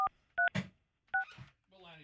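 Telephone keypad tones beep several times in a radio studio as a number is dialed, short clear tone pairs spaced apart, with a bit of quiet talk and rustling between them.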